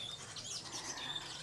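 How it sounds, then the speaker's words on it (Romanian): Small yellow birds chirp around their nests in a tree in Ngorongoro, a few thin high tweets repeating over a steady faint hiss of outdoor ambience. "o mulțime de păsărele și-au făcut cuiburi. Păsările din acelea galbene,"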